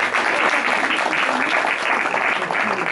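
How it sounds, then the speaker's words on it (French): Dense, steady applause from an indoor audience greeting a local folk dance group that performs the bourrée, sustained clapping at an even loudness throughout. "On peut les applaudir."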